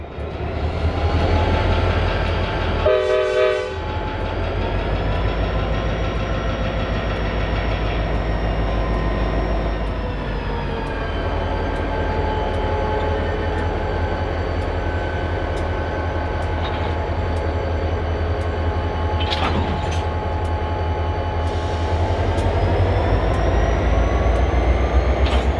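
A Kansas City Southern freight train rumbles past with a heavy, continuous low roar. A short horn blast sounds near the start, and occasional clanks and squeals break through the steady rolling noise.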